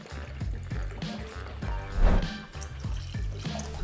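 Roughly two ounces of cheap Kessler whiskey pours into a mixing glass for a cocktail, a short steady liquid stream with faint splashing over a low rhythmic music bed, no talking.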